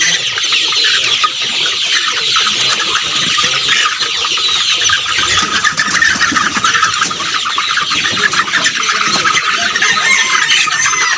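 Chickens on a Bangladeshi broiler poultry farm, being weighed, clucking continuously as a dense, busy flock, loud and close throughout with no talk over them.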